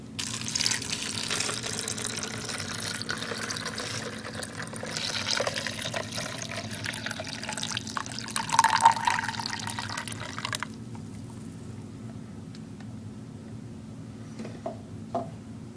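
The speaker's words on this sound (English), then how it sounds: "dump a cup of water in the top here, and we'll see how it trickles down" A cup of water is poured through a funnel into a bottle garden, giving a soft, continuous trickle and splash for about ten seconds before it stops, leaving a few faint drips.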